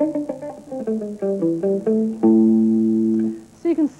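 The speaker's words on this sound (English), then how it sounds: "or if you want to play single notes and get quite a percussive sound," Palm-muted single electric guitar notes in a rock lesson, short percussive plucks in a quick rhythmic line, then one sustained ringing chord, played alone and close.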